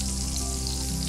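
Butter and oil with cinnamon and cardamom fry in a pan, giving a continuous close, bright sizzle with no pauses over one brief stretch.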